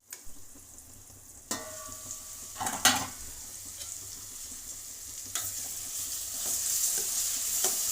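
Snake gourd milk curry sizzling and bubbling steadily in a pan, with soft stirring scrapes and a few sharper clinks, the frying hiss growing a little brighter toward the end; no talking.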